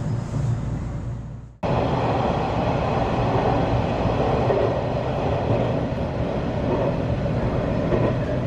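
A local stopping train at Itoigawa station rumbles loudly and steadily after a brief quieter moment, its continuous rail and carriage noise filling the space with no voices.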